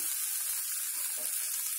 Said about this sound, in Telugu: కొత్తిమీర బాగా వేగింది కదా